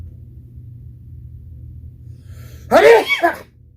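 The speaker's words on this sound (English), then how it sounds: "I sneeze loud" A single loud, close sneeze bursts out after a few seconds of quiet low hum, with a sharp onset and a short trailing tail.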